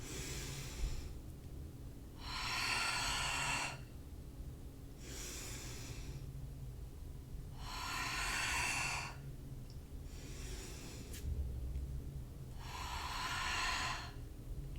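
Slow, deep yoga breaths, inhaling and exhaling through the nose in a calm, even rhythm, five long airy breaths spaced a few seconds apart, close and soft with no talking.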